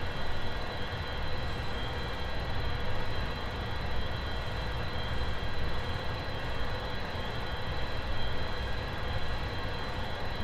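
A steady, dense engine roar from a plane in the X-Plane 11 flight simulator spooling up for takeoff, broadband and constant throughout with no voices.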